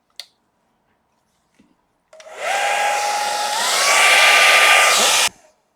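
Hair dryer blowing across fluid acrylic paint in a Dutch pour, starting abruptly after a few faint knocks and roaring steadily for about three seconds at close range, its tone rising slightly before it cuts off.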